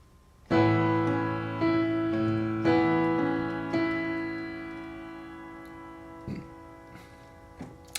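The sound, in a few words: piano playing a short loop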